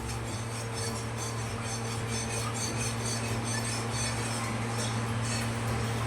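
Turmeric powder is stirred into oil for mango murabba, giving a steady, close scraping and rubbing sound of a spoon working the pan without pause.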